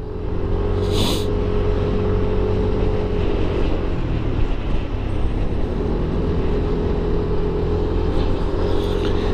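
A Yamaha NMAX 160 scooter with a four-valve engine and about 1,100 km on it runs steadily nearby, a constant low engine drone with a faint tonal hum and a brief higher burst early on.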